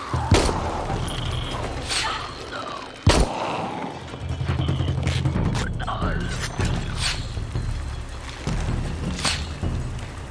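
Gunfire in a Shadow of the Tomb Raider game fight, with several sharp, loud shots spaced a second or two apart over a dense bed of rumbling game ambience and effects.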